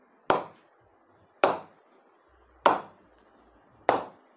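Four sharp, evenly spaced knocks of a cricket ball struck against the bottom of a hard-pressed cricket bat, each a crisp wooden clack that decays quickly, close and loud with no talk.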